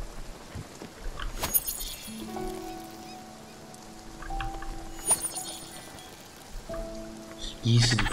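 Steady soft rainfall patters throughout in the video game Spiritfarer, with a few sharp clicks and brief tonal blips layered over the wash of drops.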